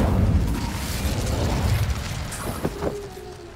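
Incendio fire spell cast in Hogwarts Legacy, a mechanical whooshing burst of game magic with a sharp crackling pop near the end, loud and close with no talk.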